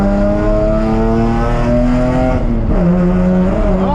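A car engine revs hard during night street drifting, a loud, close, droning roar whose pitch holds steady, then dips sharply and climbs back as the throttle changes, with no voices.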